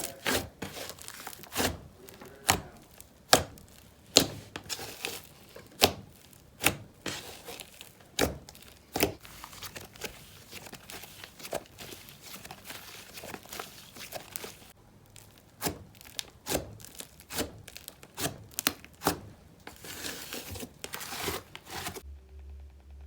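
Pillowy slime squished and pressed by hand, giving a run of crinkly, sizzly close-up ASMR squelches and pops in an uneven rhythm, fairly quiet, with no talk.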